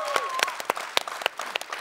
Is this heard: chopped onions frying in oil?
no